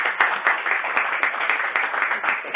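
Audience applause at a health event about living well before and after transplant, a steady burst of many hands clapping close by, rhythmic and even throughout.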